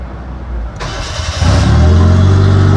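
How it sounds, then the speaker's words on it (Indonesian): A Toyota Kijang Super with a turbo engine cranks briefly, then catches and settles into a loud, steady idle close by. "Kepingin dengar suara mesinnya boleh ya, Mas?"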